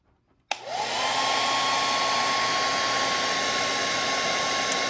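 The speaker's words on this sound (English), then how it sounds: "Plug this hair dryer in here." After a brief quiet moment, an 1875-watt hair dryer switches on with a click and settles into a steady, loud whirring blow that runs without a break.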